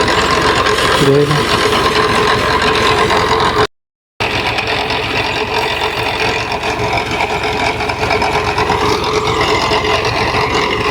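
A tractor digging up potatoes in a field runs with a loud, steady engine drone and rattling machinery throughout, briefly cut off by a short gap, with a few words spoken over it.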